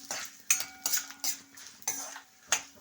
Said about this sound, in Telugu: ఇంగు వేసుకుని ఒకసారి అంతా బాగా కలుపుకోవాలి